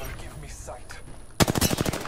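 A Spitfire light machine gun fires in the Apex Legends video game: after a quieter stretch with faint game sounds, a loud, rapid burst of evenly spaced shots breaks in abruptly and continues to the end.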